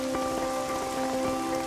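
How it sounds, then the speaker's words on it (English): Steady Welsh rain falls on muddy fields at an archaeological dig, a dense, continuous hiss of drops with a faint tonal hum beneath it. "Another dose of invigorating Welsh rain."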